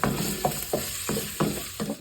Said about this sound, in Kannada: ಸೊ ಎಣ್ಣೆ ಒಳಗಡೆ ಫಸ್ಟು ಕ್ಯಾರೆಟ್ ಹಾಕಿದೆ ಆ್ಯಂಡ್ ಅದನ್ನು ಫಸ್ಟು ಫ್ರೈ